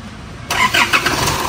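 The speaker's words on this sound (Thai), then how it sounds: "บิดสตาร์ทหน่อย" A motorcycle with a fuel-pressure fault, just ridden and parked, is started by twisting the throttle: a short burst of cranking that catches and revs briefly, up close and fairly loud.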